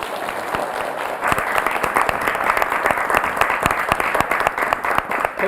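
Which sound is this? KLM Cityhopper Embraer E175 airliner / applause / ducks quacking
applause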